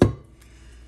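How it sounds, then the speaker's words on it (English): A paper punch snaps down once on the end of a strip of cardstock, a single sharp close click that fades quickly into quiet. "Punch the end off."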